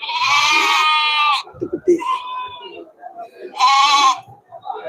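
Sheep and goats bleating at a weekly goat market in Melapalayam, Tamil Nadu: two loud, close bleats with a voice speaking between them.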